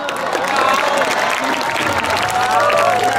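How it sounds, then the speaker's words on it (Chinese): An audience at a high school year-end celebration breaks into a loud burst of sustained, dense hand clapping that continues evenly for several seconds. "我们再次热烈的掌声"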